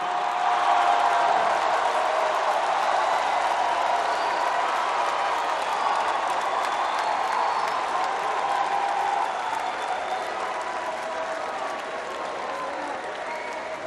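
Audience applause fills a tribute concert for the late Congolese artist in Abidjan, a dense, steady ovation of many hands mixed with some crowd noise, loud throughout and easing slightly toward the end.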